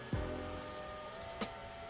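An edited grasshopper chirp sound effect: two short clusters of three sharp, high raspy chirps separated by a gap, with a faint low thump and a brief click around them over a quiet background.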